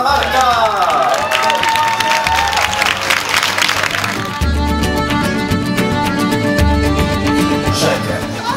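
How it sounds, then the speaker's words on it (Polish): Sustained applause from a crowd, steady and loud throughout, with cheering voices mixed in at the start. "Wielkie brawa dla pana Marka."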